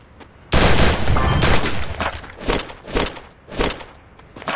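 Loud, close gunfire in the Free Fire video game: a sustained burst of rapid shots, followed by several shorter separate volleys spaced about half a second apart, with no talk.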